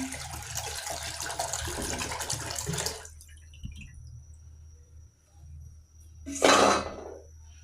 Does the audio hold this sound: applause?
no